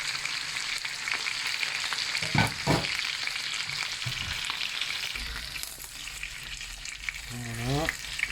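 Chicken rolls sizzling in a pan as they brown on both sides, a steady crackling hiss with a few louder bursts and scraping as they are moved, heard up close with no talking.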